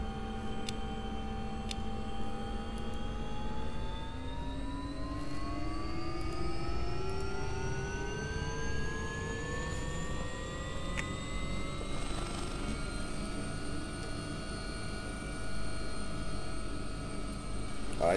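Simulated AW-139 helicopter in X-Plane 11 on a Scottish Coastguard rescue flight, a steady turbine whine with rising rotor and engine tones, moderately quiet and continuous throughout.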